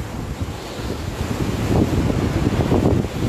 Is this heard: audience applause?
no